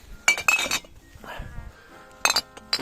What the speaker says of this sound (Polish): samo szkło już będziemy brzdękać, brzęczyć w tym lesie